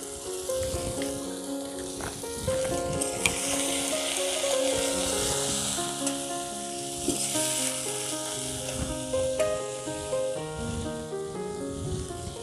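Cumin and green chilli paste frying in a little oil, a steady close sizzle running throughout with no voices.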